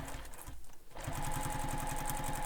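A sewing machine bastes the side seam of a Passenger backpack, a close, steady, fast rhythmic whirr with a brief pause near the start before the stitching resumes.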